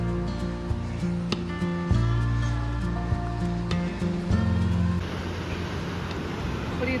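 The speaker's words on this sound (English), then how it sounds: "What do you think about this waterfall?" The McCloud River waterfall near Mt Shasta, California, comes in as a broad, steady rushing roar during the last couple of seconds, after a stretch of tonal music with a voice over it.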